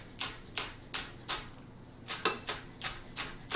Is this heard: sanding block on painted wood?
no